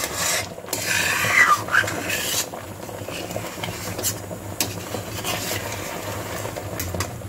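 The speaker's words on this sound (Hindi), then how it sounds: "जब गाढ़ा होने पर आता है तो इसे बराबर चलाना होता है, नहीं नीचे से जलेगा।" Milk being stirred in a pan on low gas as it thickens for milk cake, a steady scraping and rubbing of spoon against the pan base with faint bubbling underneath, continuous and fairly close, with no voices.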